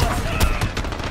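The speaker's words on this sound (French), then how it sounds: "cette arme normalement elle tire en rafale. Elle tire 3 balles par 3 balles" Burst-fire rifle shooting in Call of Duty Modern Warfare during a capture-the-flag match, rapid close shots fired in quick three-round bursts in a loud, busy game mix.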